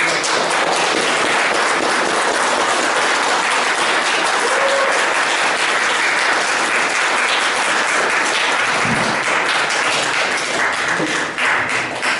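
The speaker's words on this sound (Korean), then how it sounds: "힘찬 박수로 노회찬 대표님" A lecture-hall audience gives a loud, sustained round of applause to welcome a speaker at a special lecture, dense clapping from many hands filling the room without letup.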